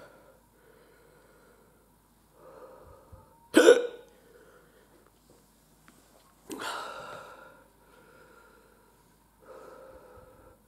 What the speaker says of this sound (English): Wow, it's really got the hiccups going.